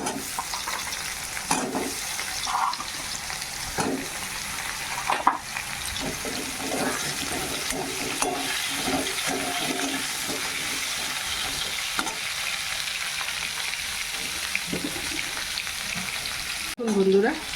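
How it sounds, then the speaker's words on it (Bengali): Potatoes and pointed gourd frying in a wok with browned onions, a steady close sizzle throughout with occasional stirring scrapes. "বন্ধুরা এই যে আলুগুলো ভেজে নিয়েছি"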